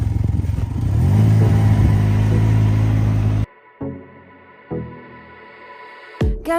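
A Can-Am vehicle's engine revs loud and close for a few seconds, then cuts off abruptly, followed by a couple of short bursts and quiet gaps, with a sharp burst at the end.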